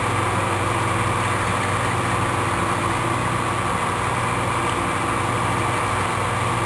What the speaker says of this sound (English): we're gonna just drill a hole right through the center of this